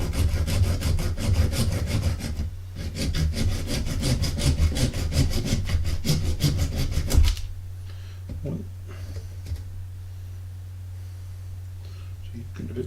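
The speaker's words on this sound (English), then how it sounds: "we can probably use a razor saw, just trim it down just a little bit" A razor saw trims a small model part with fast, rhythmic rasping strokes close by for several seconds, then stops, leaving faint handling sounds and a low background hum.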